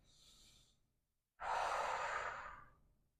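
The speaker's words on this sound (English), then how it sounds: "take a big breath" Close, quiet breathing during a yoga neck stretch: a short inhale, a brief pause, then a long, airy exhale that fades out.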